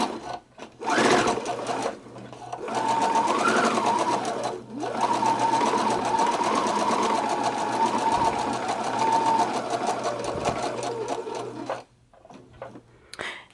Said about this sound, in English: So I'm just going to do a top stitch where the presser foot is even with the edge of the fabric.